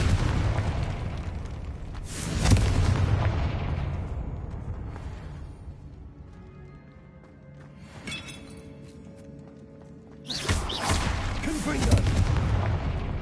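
Confringo blasting spell from Hogwarts Legacy, several loud booming explosions with crackling debris and long rumbling decays, separated by quieter gaps with faint ringing tones.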